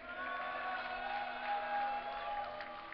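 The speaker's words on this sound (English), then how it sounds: "give a cheer for Jinro" Arena crowd at an MLG StarCraft II event in Dallas, 2010, cheering steadily: a dense, distant-sounding wash of voices with whoops, fairly faint, sustained throughout.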